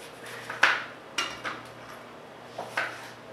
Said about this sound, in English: Alright, so I'm cutting up the onion here.